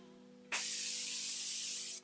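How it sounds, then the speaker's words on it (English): A single continuous burst of face setting spray from a pump bottle, a bright close hiss starting abruptly and lasting about a second and a half before cutting off, over a faint steady hum. "I think it's time to spray my face"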